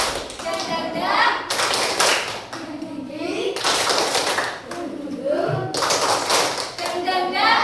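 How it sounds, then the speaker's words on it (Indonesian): A classroom of students performs a rhythmic spirit clap, short bursts of group clapping alternating with chanted syllables in a fixed pattern, close and fairly loud. "Ayo kita tepuk semangat dulu. Tepuk semangat."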